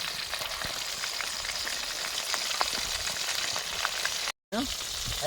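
KFC-style chicken frying in hot oil over a medium flame, giving a steady close crackling sizzle with scattered pops throughout and one brief dropout near the end.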